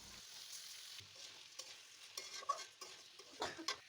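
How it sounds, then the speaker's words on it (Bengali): Chinigura rice being fried and stirred in a pan for a village-style pulao, a soft quiet sizzle broken by uneven scraping and clattering stirs that grow busier toward the end. "তারপরে চিনি গুঁড়া চাল দিয়েও ভালো করে ভাইজা নিমু"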